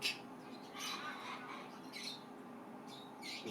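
A pet parrot gives several harsh squawks, close and fairly loud, roughly once every second, with a quiet hum underneath.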